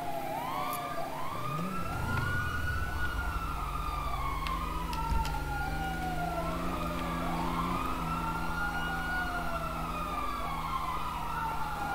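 Emergency vehicle sirens in the GTA roleplay video game wail in overlapping rising and falling sweeps, loud and continuous over a low engine rumble, with a brief horn-like blip near the start.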